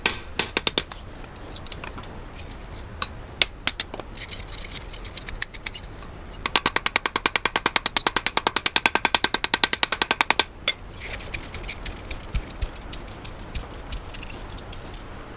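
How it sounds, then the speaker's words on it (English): A ball peen hammer taps a rivet to add patina in a historic blacksmith shop, sharp metallic strikes in scattered bursts and then a fast steady run of rapid blows before slowing again, close and loud. "Now we're using the ball peen of the hammer to add patina to the rivet."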